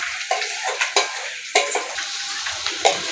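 Potatoes fry in a pan for a jhinge posto dish, with a soft sizzle under repeated sharp scraping strokes of a spoon stirring them, about seven or eight close, irregular strokes.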